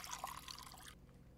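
Water poured in the video game Fears to Fathom: Woodbury Getaway, a faint, brief trickling splash lasting about a second before cutting off into quiet.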